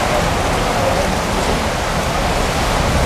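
Steady rain falls outdoors in a dense, even hiss, loud and continuous, with no voices.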